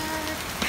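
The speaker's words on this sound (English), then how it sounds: "I'm heading to the main building and it's raining" Rain falling outside a university building, a soft, steady hiss of drops with a faint patter, heard without speech.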